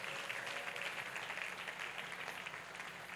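A church congregation applauds the Lord during a French-language prayer service, a steady, dense wash of clapping from many hands that holds at an even level throughout.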